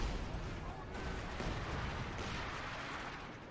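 Artillery and gunfire trade back and forth in a Company of Heroes 2 one-versus-one battle, a dense, continuous rumble of booming shots and distant blasts with no clear gaps, fairly quiet overall.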